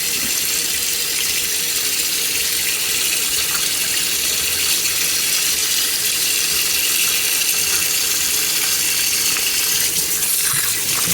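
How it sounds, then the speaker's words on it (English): Running tap water gushes steadily and loudly over raw free-range chicken being rinsed in a sink, a continuous close splash with no talking. "Rinse all that excess blood out."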